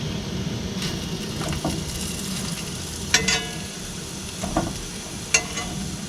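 Spam sizzling and frying in a pan on a 1950s Coleman picnic stove, a steady close hiss with a few clinks and scrapes of a utensil stirring the meat.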